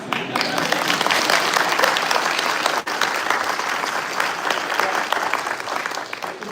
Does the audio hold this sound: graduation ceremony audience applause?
yes